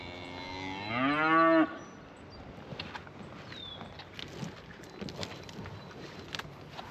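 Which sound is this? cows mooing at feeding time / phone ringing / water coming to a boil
cows mooing at feeding time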